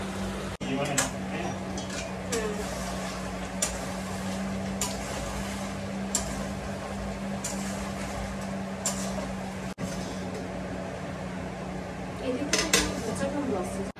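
Chicken sautéing in a pot is stirred with a metal utensil, producing repeated sharp scrapes and clinks against a low steady hum. A cluster of louder clatters comes near the end.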